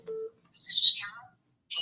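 Telephone beeps on a call-in livestream line: a short low tone followed by a brighter rising electronic warble, with another beep starting at the end, heard alone and fairly loud.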